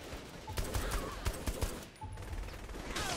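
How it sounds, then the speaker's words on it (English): Bursts of gunfire fired at the player in Saints Row The Third crack in quick uneven volleys, moderately close, with a brief lull before more shots ring out. "Who's shooting at me?"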